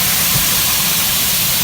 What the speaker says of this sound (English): we're gonna add liquid to get the fond off the bottom of the pan